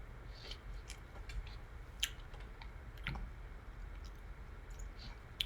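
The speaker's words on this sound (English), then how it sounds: "I'm trying to eat a croissant while I talk to 200 people" Someone eating a croissant: soft, intermittent crunchy chewing clicks over a low background hum, close to the mic, with no talking.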